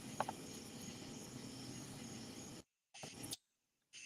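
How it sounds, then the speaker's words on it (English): Crickets and frogs trilling outdoors at night by the Mississippi River, a dense steady chorus that cuts out abruptly, then returns in short bursts. "I'm sitting outside, and it could be them crickets and frogs singing."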